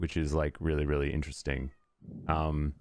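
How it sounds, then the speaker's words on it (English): A pet cat meows loudly outdoors, a raised plaintive call heard between stretches of someone talking close up. "I don't know whether you can hear my cat meowing like crazy outside."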